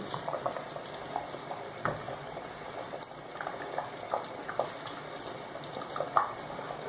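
Diced potatoes are stirred in a pot of cabbage soup, a soft bubbling simmer with light scraping and clinks of the spoon at irregular intervals, close and fairly quiet.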